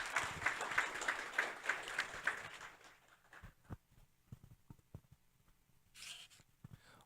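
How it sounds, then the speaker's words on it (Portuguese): Audience applause at a university event, a few seconds of rhythmic clapping that fades out, followed by scattered soft taps and rustles in a quiet hall. "Então eu peço mais uma salva de palmas para o professor Marcelo,"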